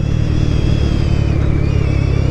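Close and loud, a modified Honda Twister motorcycle accelerates on the street with a steady, buzzing exhaust drone. The pitch wavers and dips slightly partway through, and no one talks over it.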